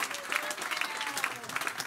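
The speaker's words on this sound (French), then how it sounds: "donnons quand même une acclamation" A congregation at a church sermon breaks into brief applause and cheering, a dense burst of clapping with a few voices calling out within it.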